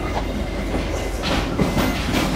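Inside an Indonesian Tegal Bahari business-class passenger train, a loud, continuous rumble of wheels on rails is heard up close, with a steady clatter throughout.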